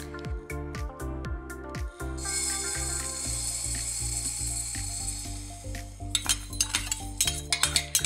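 Moong dal being dry-fried in a pan without oil, with steady scraping and stirring, utensil clinks against the metal pan, and a rattling, clattering run of taps toward the end, close and moderately loud.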